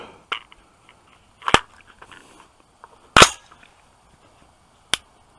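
Sharp outdoor gunshots from an AR15 rifle fitted with an Aimpoint Pro red dot and fixed front sight, a few loud cracks spaced seconds apart with brief echoes and near-silence between.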